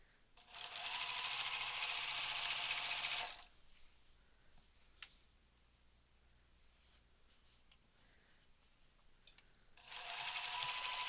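Sewing machine backstitching, two loud close bursts of rapid stitching, one about three seconds long at the start and another beginning near the end, separated by quiet handling noise.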